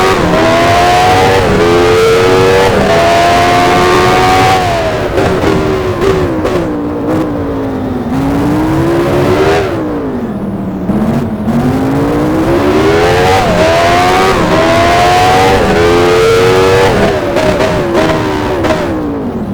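Formula 1 race car engine from the F1 Challenge racing game, 1983 Detroit street circuit, droning loudly and continuously with repeated rising and falling revs as it shifts gears, no talking.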